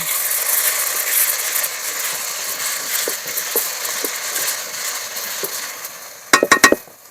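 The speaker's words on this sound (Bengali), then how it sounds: "মশলাটা খুব সুন্দর করে কষিয়ে নেব" Spice masala of coriander powder, cumin powder and salt sizzles steadily while being sautéed in a pan for a katla fish dish, a continuous bright frying hiss with a few louder scraping clatters near the end.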